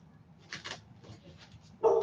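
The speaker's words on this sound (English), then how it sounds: "Can you hear my dog barking?" A dog barks indoors in the background, with a couple of faint, short barks and then a louder one at the end, over a low room hum.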